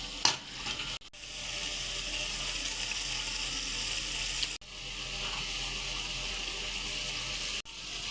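Tomatoes, onions and mutton fry in a pan with a steady, close sizzle broken by a few short stirring knocks, continuous hiss throughout and no talk.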